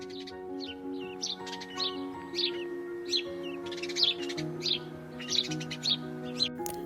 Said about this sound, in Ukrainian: А ще горобчик вміє цвірінькати. Ось так.